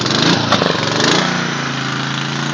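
A lawn mower engine on choke catches and roars into a loud, steady run, close up and dominating the scene.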